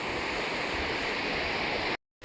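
Sea waves wash against a rocky shore at night, a loud, continuous broadband roar that cuts off abruptly near the end.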